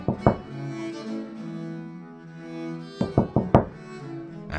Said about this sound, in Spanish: A tu puerta llaman.